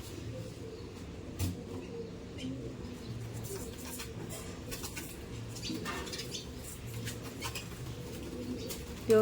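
Soft, low cooing of doves repeats steadily at close range as they feed in a home courtyard, with faint clinks and a few scattered voices in the background.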